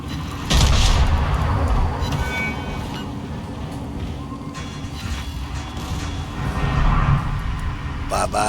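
Secondary guns of the battleship HMS Tiger firing in World of Warships, loud booming salvos layered over a constant rumbling din, with a heavier burst near the start and another surge late on.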